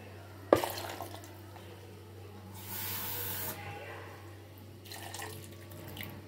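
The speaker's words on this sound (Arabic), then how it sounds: "غادي نديرو 2 كيسان ديال الماء، السيطرو ديال الماء وصافي" Water poured from a glass for apple, cucumber and carrot juice makes a short spraying splash near the middle, with a person talking.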